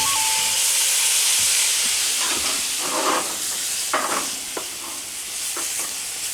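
Stock poured a little at a time into a hot pan for a jalapeño pasta sauce bursts into a loud hissing sizzle. It surges in waves with bubbling spits, then eases to a softer crackle, with no talking.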